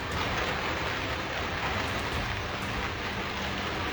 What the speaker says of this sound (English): Large hail suddenly slammed into Lyons, Colorado, covering streets and homes in white.